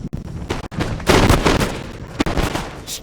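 Musket volley gunfire in the video game Total War: Empire, a loud crackling burst of shots followed by a rolling rumble and a second sharp report, with no speech over it.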